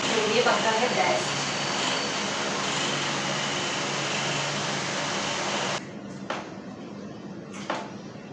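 A pedestal fan runs with a steady, moderate whoosh of moving air and motor hum for several seconds, then drops to a quieter background broken by a few brief knocks.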